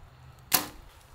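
An arrow from a bow strikes a target outdoors in a single sharp, close thwack that cuts through a quiet background and fades quickly.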